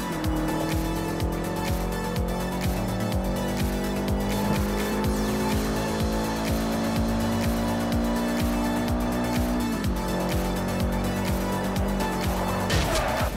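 A 2004 Subaru Legacy S4 in Forza Horizon 2 on Xbox 360 drones steadily at high revs, the engine tone gliding through gear changes with tire squeal layered in, loud and continuous with no talk.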